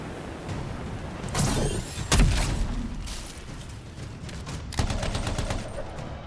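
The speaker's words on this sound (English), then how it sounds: "Use my sniper rifle." Sniper rifle fire in the game Anthem, with sharp, loud shots amid a busy, noisy battle soundscape of blasts and rumbling effects, no talk.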